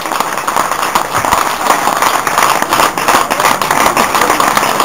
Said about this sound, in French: Je vous demande d'applaudir quand même très très fort les finalistes